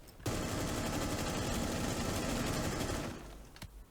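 Sustained fully automatic assault rifle fire in Rainbow Six Siege, a loud, close, continuous stream of rapid shots lasting about three seconds before stopping, with no voices.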